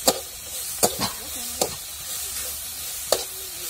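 Chili and coconut masala sautés in a pan with a soft sizzle, broken by several sharp scraping knocks of a stirring utensil at uneven intervals.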